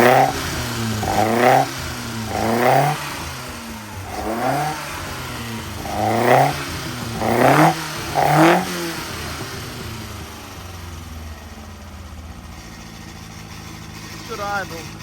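A race engine with a mild R17 cam, running a standard radiator and fan, revs in a series of loud rhythmic throttle blips close by. It then settles into a lumpy, quieter idle.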